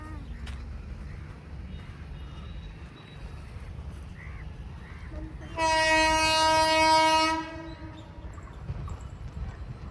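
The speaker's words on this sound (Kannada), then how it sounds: "ತಮ್ಮ ಟ್ರೈನ್ ಬಂತು ನೋಡೆ" A train rumbles low and steadily, then a loud, sustained horn blast sounds for a couple of seconds before the rumble continues.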